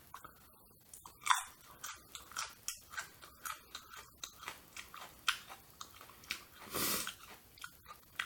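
A raw habanero chili is bitten and chewed up close, a quiet run of crisp, crunchy chews repeating in a fairly even rhythm for several seconds.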